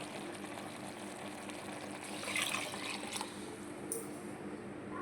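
Water pours steadily onto rice in a metal pressure cooker, a continuous splashing rush that swells slightly in the middle, close by with no talking.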